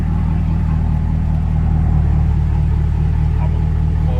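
A car with a Corsa cat-back exhaust idles with its valves open, giving a steady, loud, deep rumble that holds without any revving.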